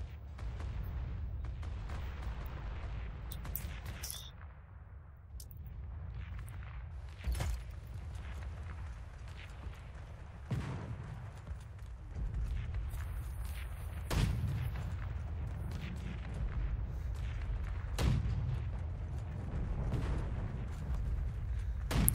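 Heavy gunfire in the World War II shooter Heroes and Generals, scattered booming shots and sharp reports cutting through a low rumbling battle bed across a long stretch.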